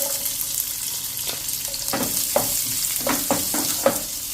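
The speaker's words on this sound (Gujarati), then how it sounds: "રાઈ અને જીરું બંને ક્રકલ થઈ ગયા છે તો એમાં આપણે આ એક મીડિયમ સાઇઝનો કાંદો લીધો છે એ નાખી દેશું" A medium-sized onion dropped into hot oil with crackling mustard seeds and cumin, producing a continuous sizzle with a few louder spatters and stirring scrapes.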